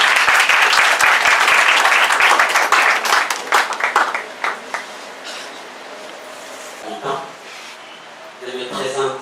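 An assembly audience bursts into loud, dense applause that fades gradually into scattered claps. A voice speaks near the end.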